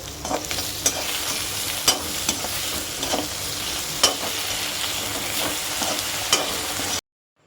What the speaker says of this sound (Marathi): प्रकारे आपण आता मसाला भाजून घेतलेला आहे.